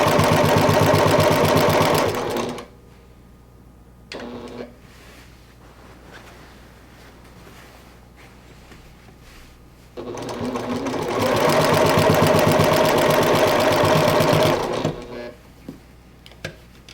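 A sewing machine stitching a quilt runs in two loud, steady whirring passes at close range, with a short burst between them and quiet handling and shuffling of the fabric in the pauses.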